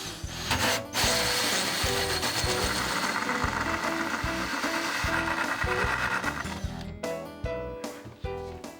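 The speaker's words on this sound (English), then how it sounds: "Using a hole saw or drill, bore through the back of the furniture near the top." A power drill whines loudly and steadily as it bores through wood, grinding continuously for several seconds before slowing and stopping with a few short bursts.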